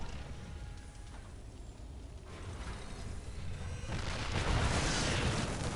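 Terran siege tanks fire in a StarCraft II Zerg versus Terran match, building from a mechanical, clanking battle din into a dense, louder rumble of blasts toward the end.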